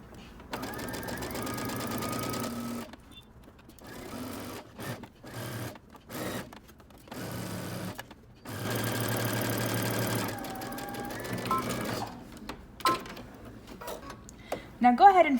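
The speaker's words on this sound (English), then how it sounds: "go to your sewing machine, and you're just going to stitch around using 5/8 of an inch seam allowance" A sewing machine stitching a jacket sleeve seam, running in bursts of fast mechanical whirring that start and stop repeatedly, with someone talking between and over the runs.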